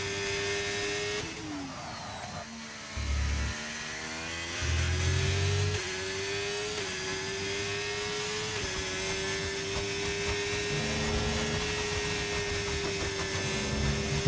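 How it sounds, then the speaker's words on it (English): An F1 car in a racing video game at Qatar holds a steady high engine whine through a fast section, with brief low thumps as it bottoms out and shifts in pitch under a faint hum. "you hear the car bottoming out through that fast section"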